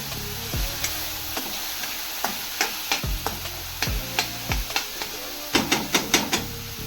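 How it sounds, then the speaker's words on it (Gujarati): Onions frying in a pan until golden brown, a steady sizzle broken by repeated sharp scraping strokes of a spoon stirring them, close and fairly regular. "ડુંગળી પણ ગોલ્ડન બ્રાઉન થાય ત્યાં સુધી આપણે એને સાતળી લેવાની છે."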